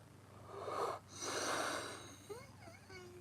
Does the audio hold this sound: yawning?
yes